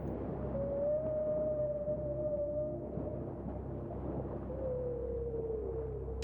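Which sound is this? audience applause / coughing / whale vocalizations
whale vocalizations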